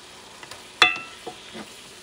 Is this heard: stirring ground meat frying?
yes